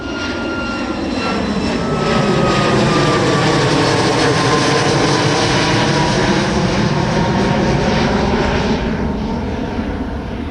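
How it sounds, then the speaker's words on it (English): A Boeing 737 MAX airliner takes off at Miami in the evening, its loud jet engine roar building quickly and then holding as a strong steady rush with a shifting whine, close by and without talk. "this is a Boeing 737 MAX taking off."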